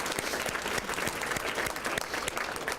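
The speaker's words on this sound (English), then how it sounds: "Let's give them a round of applause." A gala audience applauds, with a dense stream of many hands clapping at a steady level for about three seconds. The sound is rather quiet and distant.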